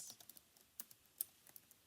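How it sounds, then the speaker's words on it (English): Computer keyboard typing with scattered light key clicks in an irregular rhythm, close and fairly quiet, some keystrokes sharper than others, with no voices. "Excuse my typing today"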